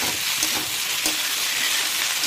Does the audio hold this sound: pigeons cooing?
no